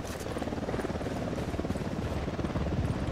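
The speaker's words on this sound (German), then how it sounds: "Lila Helikopter." Steady rotor chop of a helicopter in the co-op shooter Ghost Recon Wildlands, a dense rhythmic thumping held at an even level throughout with no talk over it.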